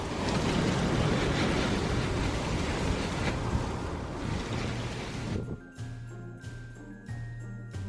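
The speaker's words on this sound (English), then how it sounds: "show you the crazy gusts of wind. It is super windy out there." Strong gusts of wind roar outdoors, buffeting the microphone in a loud sustained rush for about five seconds before cutting to a quieter indoor kitchen with a faint hum.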